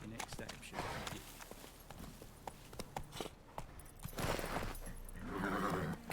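Roach, the horse in The Witcher 3, clops along in quick, uneven hoofbeats and snorts or whinnies close by. The pace rises and falls, and faint game ambience runs underneath.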